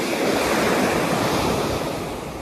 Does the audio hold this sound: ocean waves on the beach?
yes